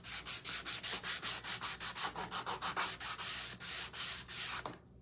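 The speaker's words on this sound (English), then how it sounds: "I just love the way this looks when you sand the edges on black." Sandpaper rubbing the edges of a black-painted wooden crow craft piece, a steady run of about twenty quick rhythmic back-and-forth strokes, close and clear with no talking.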